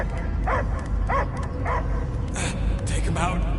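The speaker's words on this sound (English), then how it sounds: "I hear only barking." Dog barking in a superhero action video game, several short yipping barks and whimpers spaced a beat apart amid a low background rumble, with characters talking between them.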